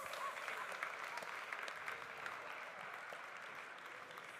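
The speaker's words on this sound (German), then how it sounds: "darum gigantischen Applaus," Sustained applause from an audience at a coffee festival in Switzerland, a steady wash of many hands clapping at moderate distance for over four seconds, with no one speaking over it.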